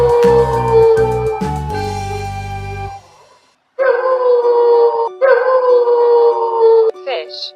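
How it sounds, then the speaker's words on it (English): A coyote sends out drawn-out howls and yips, with a rhythmic series of short calls followed by long, steady wavering howls, close and clear. "coyote."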